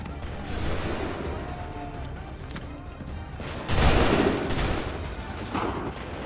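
A musket volley in Assassin's Creed 3 breaks out as a loud burst of massed gunfire around the middle, over a constant wash of battle noise, with a smaller crack of fire near the end.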